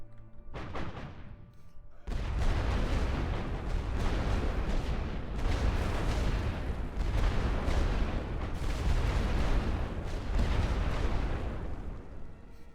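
An artillery barrage in The Great War: Western Front opens after a quiet start. It becomes a continuous rumble of heavy booms and blasts that stays loud and sustained to the end.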